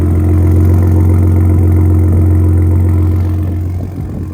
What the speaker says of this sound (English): The exhaust sounds tighter.